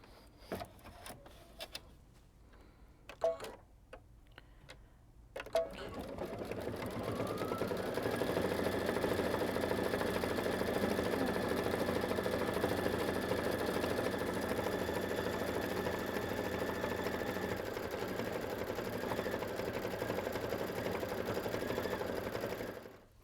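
An embroidery machine stitches out a bag design, a steady mechanical whir with a faint high whine running continuously after a few quiet clicks and knocks at the start.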